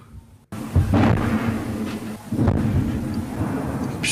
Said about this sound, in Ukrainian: А на тлі страшні звуки вибухів та сирени швидких.